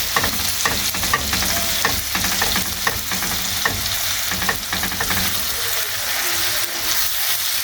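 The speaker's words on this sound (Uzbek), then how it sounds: "Ikkita katta piyoz qovurib oldim. Endi ozgina qiyma tashladim ichiga" Minced meat frying with onions in a pan, a steady loud sizzle and crackle broken by repeated scraping stirs, with no talking.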